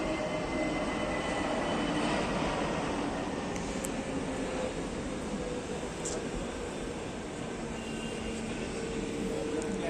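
A train rolls along with a dense, steady rumble and broadband rush of wheels and carriage noise, loud and continuous throughout, with faint muffled voices and occasional brief metallic squeaks.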